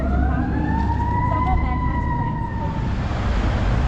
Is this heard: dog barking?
no